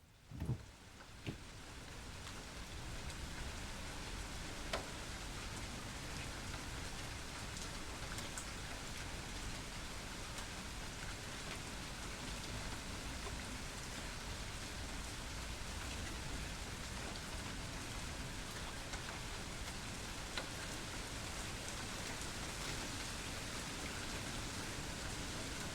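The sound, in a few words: rain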